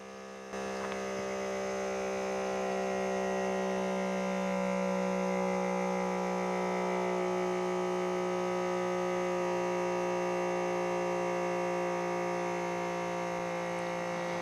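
A steady, droning electric motor hum from a FoodSaver cordless handheld vacuum sealer suctioning air from a jar runs continuously and evenly, close by, with no talking and no change in pitch throughout.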